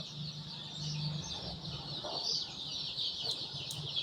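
Farm chickens cluck softly and steadily in the background of a poultry shed during Ranikhet vaccination, with broad hissy ambient noise throughout and no talk.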